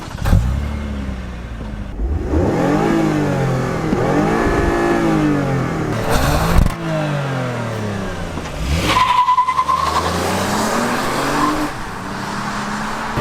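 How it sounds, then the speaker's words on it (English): A 2019 Lexus ES accelerates hard with its engine revving loudly and rising in pitch through several surges, its wheels chirping and tires squealing briefly, close and with no talk over it. "Now that's enough power to chirp this car's wheels all day long."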